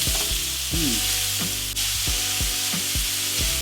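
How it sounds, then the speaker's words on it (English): Thick-cut applewood smoked bacon fries in a pan as its fat renders, a steady close sizzle and crackle running throughout with no talking. "we're cooking the bacon and we're rendering the fat, and we're going to use that fat to cook the shrimp in"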